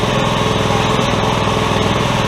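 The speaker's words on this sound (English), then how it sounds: "It's quieter than that other engine." A small go-kart engine on a rat rod T-bucket kart runs steadily just after starting on the first pull, a close, loud, even buzzing drone with a fast regular pulse and no break.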